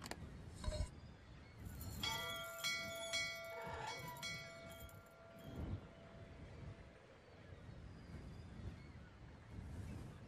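A bell rings in the video game Syberia, several clear metallic dings with lingering tones, faint and somewhat distant against a low ambient background.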